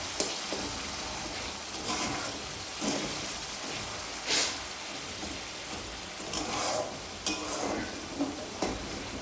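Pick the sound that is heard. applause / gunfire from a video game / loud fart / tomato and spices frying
tomato and spices frying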